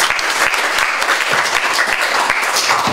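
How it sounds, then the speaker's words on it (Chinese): An audience claps steadily for a lawyer being welcomed at a talk on criminal compensation after death-penalty exonerations, dense sustained applause filling the room from start to finish. "我们热烈掌声欢迎他"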